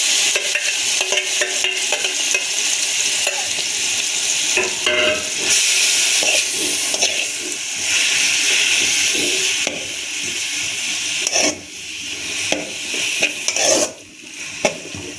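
Beetroot sautéed in ghee in a kadai, with a close, lively sizzle and repeated scraping and clattering stirs against the metal pan, rising and dipping in irregular bursts.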